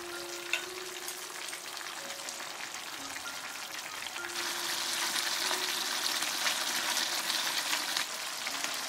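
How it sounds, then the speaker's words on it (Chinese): Pork slices, tofu skin and dried lily flowers are turned in a hot clay pot, giving a steady soft sizzle with light scraping and stirring; the bubbling grows louder and brighter midway, with no talking. "打开盖，稍微翻动一下"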